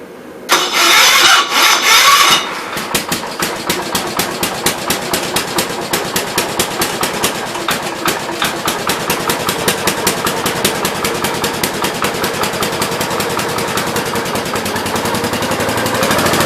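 A 1967 Gravely 430 garden tractor engine cranks over briefly, catches and starts, then settles into a steady, close, rhythmic idle with sharp regular firing pulses.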